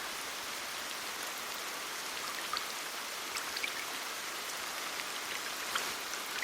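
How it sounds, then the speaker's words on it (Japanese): Steady rain patters on wet muku tree twigs at a shrine, a soft continuous hiss with scattered brighter drips, fairly close and even throughout, with no voices. "雨に濡れるムクノキの小枝の音を聞きながら"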